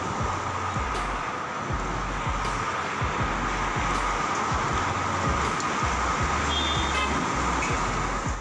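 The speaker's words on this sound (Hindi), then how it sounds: "पार्टी के कई सारे कार्यकर्ता एक साथ कई सारी कार्स के साथ ओवर स्पीडिंग करते हुए जा रहे थे।" Several political party convoy cars speed along a road in a steady wash of traffic roar, with engine drones rising and passing and faint horn toots over the continuous noise.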